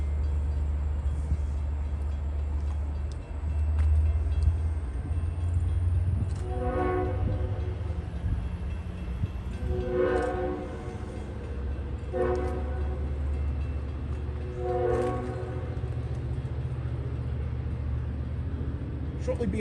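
A Long Island Rail Road train rumbles steadily past at close range while its horn sounds in several long blasts, with a continuous low roar throughout.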